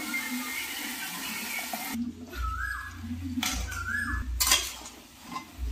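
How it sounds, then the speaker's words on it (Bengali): Metal lid set onto a cooking pan of Bengali shukto vegetables, a few clinks and scrapes of cookware up close, with low rumbling kitchen noise underneath and no talking. "একটু চাপা দিয়ে দেবো ভালো করে সেদ্ধ হওয়ার জন্য।"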